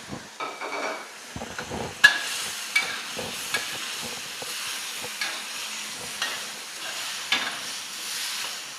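Sweet and sour chicken breast stir-frying in a pan with crisp vegetables, tomato and pineapple tossed in last: a steady close sizzle and hiss broken by scraping, clattering stirs, with no talking.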